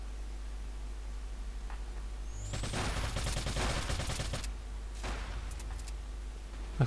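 Gunfire in the Neo Tokyo shooter game crackles in a dense burst of rapid shots for about two seconds, then a shorter volley, over a steady low hum and hiss.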